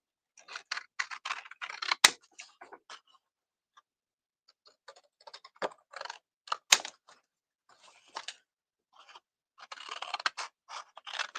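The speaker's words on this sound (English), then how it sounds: "So where are my paper scissors? So I'm just going to cut round that." Paper scissors cut round a piece of card for a hedgehog book-folding craft, producing quick, close snips and rustles in bursts separated by brief quiet gaps.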